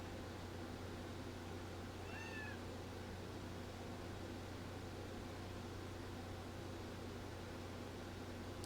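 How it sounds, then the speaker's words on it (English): A pet cat gives a single short meow, faint and brief, over a steady background hum and hiss in a quiet room. "That's our cat."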